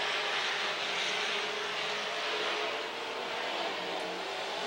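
Midwest Mods race cars lapping a track during a heat race, a continuous distant engine roar that swells and fades slightly as the cars pass, steady and moderately loud.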